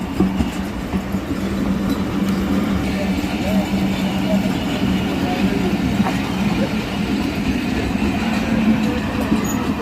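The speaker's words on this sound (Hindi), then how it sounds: "ट्रेन जा रही है" A train pulls out of a station, rumbling loudly and continuously nearby with rhythmic wheel clatter and faint squeals over steady mechanical noise.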